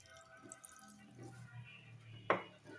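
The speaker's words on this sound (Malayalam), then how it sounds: "വെള്ളം ഒഴിക്കാം" Water poured into a bowl of appam batter with a pinch of sugar, heard as one short, sharp splash near the end of a quiet stretch of faint kitchen sounds.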